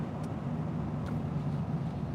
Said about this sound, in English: Excuse the loud truck in the background.